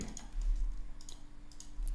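Quick, light keystrokes tap on a computer keyboard as login credentials are entered, a close, soft run of clicks over a low hum with no talking.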